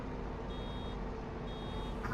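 Reversing beeps from a vehicle backing up, steady repeated tones over a constant engine rumble, with no talking.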